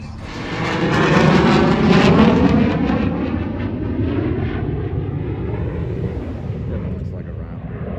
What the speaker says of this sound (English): Stealth jet right there. Stealth. It's flying by.